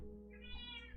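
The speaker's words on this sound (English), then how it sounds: "I hear a kitty." A house cat meows indoors, one drawn-out, rising-and-falling call set against a steady low room hum, moderately close and fairly quiet.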